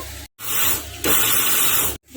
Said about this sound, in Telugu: రాగులను కూడా పౌడర్లా చేసుకుందాము. మిక్సీ పడతాను ఇప్పుడు.